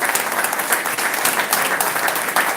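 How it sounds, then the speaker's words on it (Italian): A large audience gives the football club president a big round of applause, a dense, continuous wash of clapping hands throughout with no speech. "dovremo fare, secondo me, un grosso applauso anche al Presidente"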